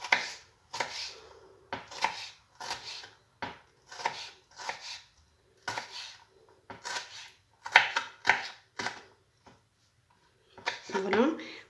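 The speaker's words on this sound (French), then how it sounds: "On va couper des tout petits morceaux." Knife chopping thin strips of bell pepper into tiny pieces on a cutting board, a series of crisp separate close-up taps in irregular bursts with short pauses between them.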